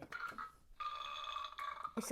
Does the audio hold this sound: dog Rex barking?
no